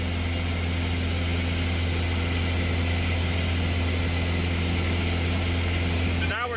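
A small airplane's engine drones loud and steady inside the cabin during a turn in flight, a constant hum with a sharp tonal whine that cuts off abruptly near the end.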